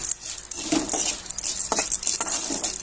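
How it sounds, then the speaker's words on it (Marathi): Chana dal roasting in homemade ghee in a pan, with a steady bright sizzle and scattered scraping stirs and light clinks of a utensil against the metal, close and fairly loud with no talking. "इथे एक वाटीने चणा डाळ घेतली ती भाजून घ्यायची"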